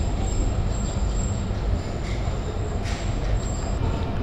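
The Tungipara Express rumbles at Gopalganj railway station, a loud, continuous rolling of wheels and carriages with a high steady squeal above it, no voices.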